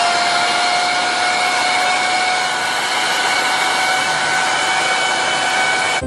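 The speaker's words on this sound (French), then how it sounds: "utiliser un sèche-cheveux vraiment très puissant" A very powerful hair dryer blows at full power, a loud, steady whine and rush of air with constant high tones that last throughout without a break.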